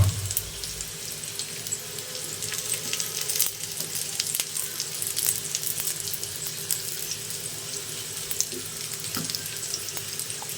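Food frying in a pan while being cooked ahead for a Ramadan meal, a steady crackling sizzle throughout with soft clatter of pieces being turned.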